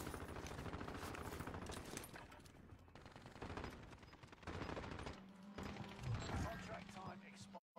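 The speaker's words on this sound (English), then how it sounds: "Who's shooting on Torn?" Rapid bursts of video game gunfire crackle through most of the stretch, dense and sustained like a firefight, with players talking over it.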